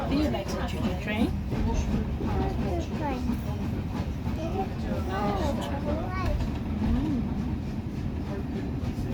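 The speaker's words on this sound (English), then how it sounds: "Do you like the choo-choo train?" A steam train runs from Minehead to Watchet, its steady rumble and rattling carriages heard from on board beneath frequent chatter and a voice.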